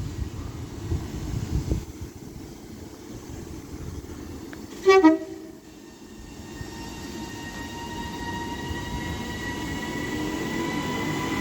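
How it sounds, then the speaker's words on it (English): A Northern Class 331 electric train departs Cheadle Hulme station on the West Coast Main Line, opening with a short loud horn toot, then a rising electric motor whine building steadily as the train pulls away. "Now getting ready to depart is 331030 with the now delayed 1520 Northern service from Crewe to Manchester Piccadilly."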